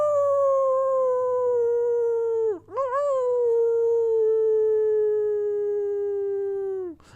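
A single wolf lets out a long, clear, mournful howl that dips and breaks briefly before sliding on in a steady held tone and tapering off, loud and alone.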